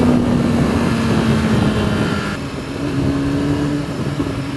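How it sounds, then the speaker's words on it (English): A 2015 BMW S1000RR sport motorcycle roars steadily up close, its loud stock exhaust rumbling and revving throughout without letup. "For an original exhaust, this thing shouts."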